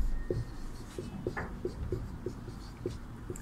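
Chalk or pen writes a Sanskrit phrase during a classroom lesson, a series of short tapping strokes in an uneven rhythm with one longer scrape, close and fairly quiet over faint room noise.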